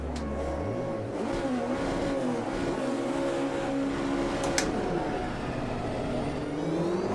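A Porsche race car in the sim racing game Automobilista 2 holds a steady, loud engine drone that climbs and dips in pitch as it revs and shifts, with a faint tire squeal near the end.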